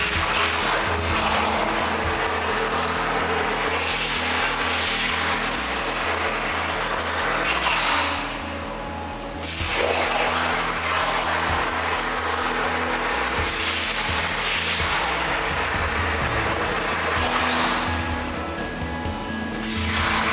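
An automated metal cutting table works a weld-ready part with a continuous loud grinding, hissing drone and a steady rhythmic pulse underneath. The noise briefly drops twice, then resumes.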